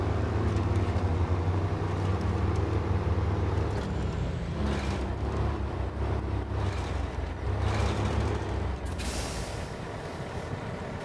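A truck engine drones steadily as the vehicle drives in MudRunner, a continuous low rumble with hissing, air-brake-like bursts and clunks over roughly eleven seconds, no voices.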